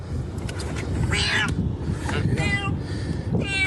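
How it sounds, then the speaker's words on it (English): A stranded cat, caught in flooding after heavy rain in a dry country, gives several strained, rising meows close by, mixed with wind noise and a dull rushing background. "One cat had a lucky escape."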